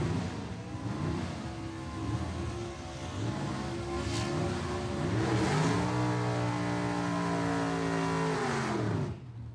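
Small-block gasser drag cars, including a 1967 Camaro, rev loudly at a dragway, engines climbing and falling in pitch with steady roaring, heard up close with no talking.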